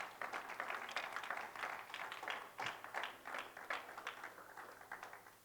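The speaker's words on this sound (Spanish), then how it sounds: "Dale una ofrenda de palmas al Señor." A church congregation gives a round of applause: steady, faint clapping from many hands that continues throughout with a gentle, uneven rhythm.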